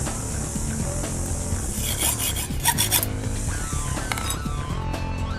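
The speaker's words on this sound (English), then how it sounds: "Hold the tube securely in the vise and cut off a length of" Aluminium tube held firmly in a bench vise is cut to length, giving a steady, continuous rasping stroke sound close up with no talking.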